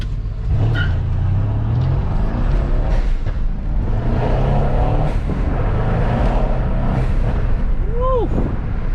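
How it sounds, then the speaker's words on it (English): A Mercedes C63 with VRP intakes accelerates hard in sport mode with a window partly open, its engine roaring loud and close under a constant rumble, with people talking and exclaiming over it. "I definitely hear the intakes so much more"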